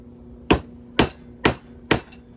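An old flathead screwdriver used as a punch on a 1978 Chevy Camaro drag car, struck by a hammer four times in an even rhythm, each blow a sharp, close metallic hit over a faint steady hum.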